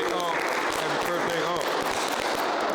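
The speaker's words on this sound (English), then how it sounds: "Clap it up for 46, man." A podcast studio audience claps for a few seconds, a dense patter of hands with scattered whoops, under and alongside talking voices.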